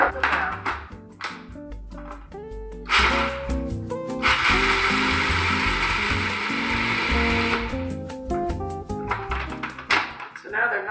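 Food processor grinding walnuts with coarse kosher salt, short pulses followed by a long loud whirring run, then more brief pulses, with a voice talking in between.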